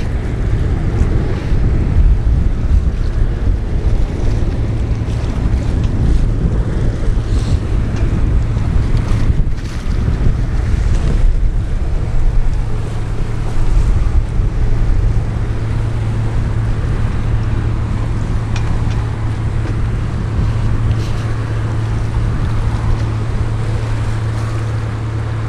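Waves and steady wind around a sailing yacht heading into port, a constant loud rush of wind noise over sloshing water and a low droning hum, with no talking.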